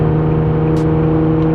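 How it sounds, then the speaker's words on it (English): An Infiniti G37 with a repaired exhaust leak pulls forward, its engine holding a steady, close, loud droning tone with a smooth even note throughout. "the car just accelerates like much more willingly"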